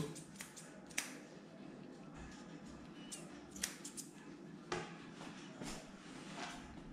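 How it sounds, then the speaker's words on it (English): Scissors trimming fur around a matted cocker spaniel's paws, with quiet irregular snips and small metallic clicks spread across a soft background. "I'm going to take the scissors and scissor around his paws"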